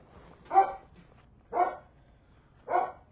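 A dog barks three times at a steady, spaced rhythm, each bark clear and moderately close against a quiet indoor background.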